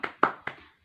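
Three quick hand claps in a short rhythmic pattern, close and moderately loud, as children clap the "tepuk semangat" chant in a preschool class.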